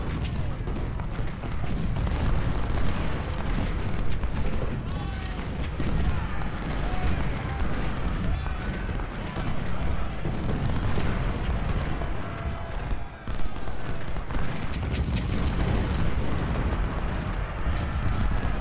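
Ultimate General: Civil War battle at Malvern Hill: a dense, continuous roar of massed musket fire and artillery booms. It stays loud and steady the whole way, with a voice faintly underneath.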